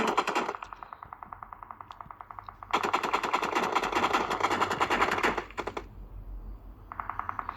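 Rapid automatic gunfire from the mobile battle-royale game PUBG Mobile rattles in sustained bursts, a long volley in the middle flanked by shorter ones, crisp and close with no talk over it.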